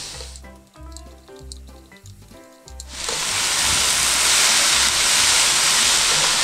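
Carrots and shiitake mushrooms are stir-fried together in a pan for japchae. After a few seconds of soft tonal notes, a loud, continuous, close sizzle takes over and holds steady.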